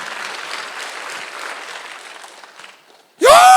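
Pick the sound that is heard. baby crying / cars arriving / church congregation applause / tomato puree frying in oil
church congregation applause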